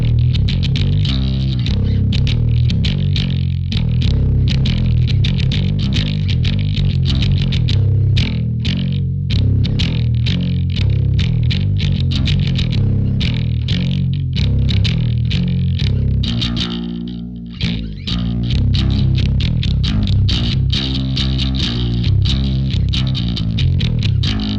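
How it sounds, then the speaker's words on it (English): Music Man Stingray bass in drop C through a Sansamp PSA-1 on one of its presets plays a loud, heavily distorted, driving riff with steady rhythmic notes and a brief pause near the end. "I'm in drop C, and this is Ryan's Music Man Stingray."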